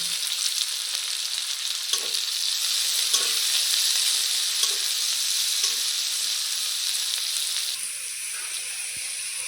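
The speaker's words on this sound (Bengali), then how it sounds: "দিয়ে দিচ্ছি পেঁয়াজ কুচি লঙ্কা কুচি" Chopped onion and chili sizzle loudly in hot oil alongside fried potatoes for a pasta dish, a steady, close frying hiss running throughout with faint stirring scrapes.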